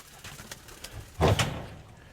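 A single injured pigeon gives one short, near coo, surrounded by faint soft knocks and quiet room noise.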